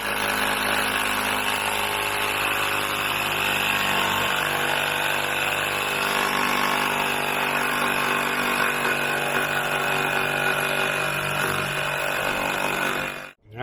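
A power saw, jigsaw or bandsaw, cuts through wood for a homemade wind chime, a loud steady whine holding near-constant for over thirteen seconds before stopping abruptly.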